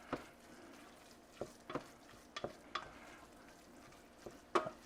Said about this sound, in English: Just cook it for a bit, make sure it's mixed, make sure there's no dry flour still in there.